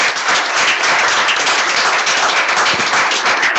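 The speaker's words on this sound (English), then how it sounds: "Please join me for a round of applause to Committeeman Doug Thompson." A round of applause rings out at a township committee reorganization meeting honoring a committeeman, a dense, steady clapping from a roomful of people that carries on without a pause.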